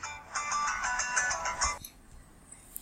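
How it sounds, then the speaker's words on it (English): A phone ringtone chimes in a rapid repeating electronic pattern for nearly two seconds, moderately close, then cuts off abruptly, leaving faint room noise. "my phone is ringing"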